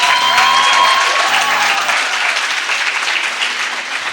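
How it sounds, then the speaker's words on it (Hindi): An audience applauds at the KhiLF 2016 comedy session, a dense, steady wash of clapping from a large crowd that carries on for several seconds and fades only slightly. "कोई ताली बजा देते हैं"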